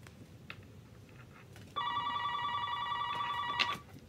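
A landline telephone rings indoors, a bright electronic trill starting after a quiet moment and holding for about two seconds before stopping, fairly close and alone.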